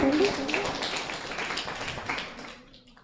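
A church congregation claps together during a Christmas sermon, a steady wash of many hands that fades away near the end.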